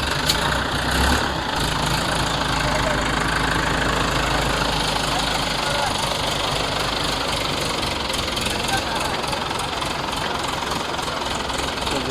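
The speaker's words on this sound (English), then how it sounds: "We have placed a huge power generator here on this particular fishing trawler." A large power generator on a fishing trawler in an Indian fishing harbor drones loud and steady throughout, a constant mechanical rumble with a faint knocking rhythm and no pauses.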